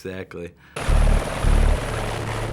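A loud, low rumbling buzz of a helicopter rotor pulses in heavy throbs after a brief stretch of speech at the start.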